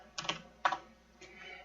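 Quick bursts of keystrokes on a computer keyboard while entering a Hello World program: three short clusters of clicks, close and fairly crisp, with no voice over them.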